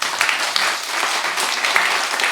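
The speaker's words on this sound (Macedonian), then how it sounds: "Еден аплауз за сите." An audience applauding in a theatre in Veles at the end of a performance, dense close clapping that stays loud and steady throughout without speech.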